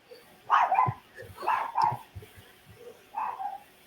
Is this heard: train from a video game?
no